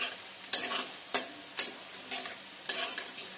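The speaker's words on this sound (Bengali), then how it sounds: "ততক্ষণ পেঁয়াজটা পেঁয়াজটা ফ্রাই হয়ে যাবে।" Chopped onions frying in a pan for a spinach-paneer dish, a soft background sizzle broken by four or five sharp scraping stirs of a spatula.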